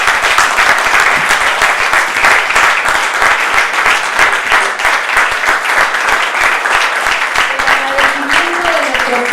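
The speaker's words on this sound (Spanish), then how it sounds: "Un fuerte aplauso." A large crowd applauds steadily and loudly throughout, dense clapping with no pauses, and a faint voice surfaces briefly near the end.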